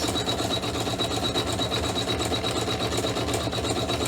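An embroidery machine fitted with a new needle stitches away in black thread, a fast steady mechanical chatter with a rhythmic pulse that stays constant and close throughout, with no voices.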